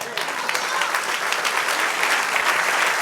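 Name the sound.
congregation applauding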